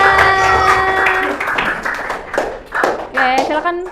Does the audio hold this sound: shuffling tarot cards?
no